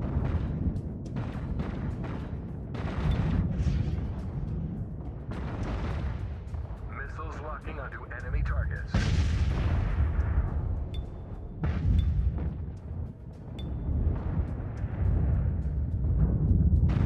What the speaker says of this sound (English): All torpedoes full speed.